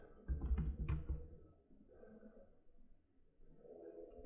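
Keys on a computer keyboard are tapped in a short, quick burst near the start, followed by a few softer scattered keystrokes in a quiet room.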